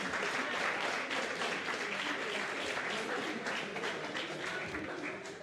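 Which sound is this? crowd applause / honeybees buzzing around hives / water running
crowd applause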